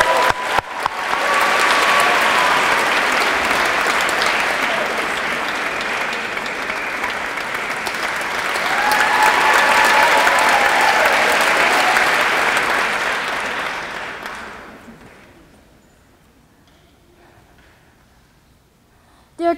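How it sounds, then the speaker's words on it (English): A poetry slam crowd gives a poet loud, sustained applause, with cheering mixed in, a thick roar that swells near the middle before fading away to near quiet. "Applaud the poet. Keep that applause going and welcome up the next poet in the first round"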